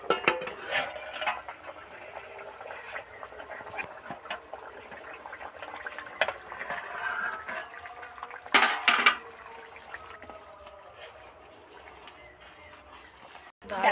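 The lid comes off a pot of cauliflower and fish curry that has been simmering over a low flame, with metallic clanks and scrapes of the lid and utensils, a faint bubbling beneath, and quiet speech in between.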